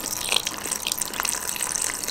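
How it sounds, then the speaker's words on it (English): Water poured into a mini portable washing machine, a steady splashing gush with bright bubbling and trickling that stays fairly loud and continuous, with no talking over it. "Pouring the water in."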